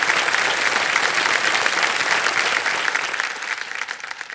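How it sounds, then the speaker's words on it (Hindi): Loud, dense studio audience applause on the Indian TV quiz show Kaun Banega Crorepati, continuous clapping that stays strong before easing slightly toward the end, with no voices over it. "तालियां बज जाए इनके लिए"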